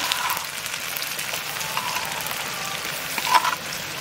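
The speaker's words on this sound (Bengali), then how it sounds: "এবার আদা বাটা দিয়ে দেবো," Onions and ginger paste fry in a pan, giving a steady, close sizzle with scattered crackles and a brief louder pop near the end, with no voices.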